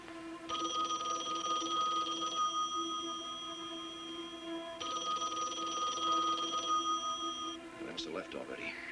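A telephone rings with a steady electronic trill in two long bursts separated by a short gap, loud and close, with a faint clatter right after.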